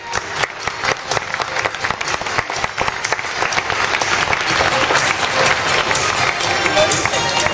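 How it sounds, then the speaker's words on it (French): Loud, sustained audience applause from a crowd at a comedy show with a performer and his dog, steady dense clapping across the whole stretch with some voices mixed in. "Vous pouvez l'applaudir et les applaudir chaleureusement."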